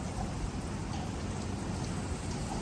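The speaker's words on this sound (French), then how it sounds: "il pleut." Steady rain hisses and patters densely on surfaces in the Maldives, a constant close wash of droplets without pause.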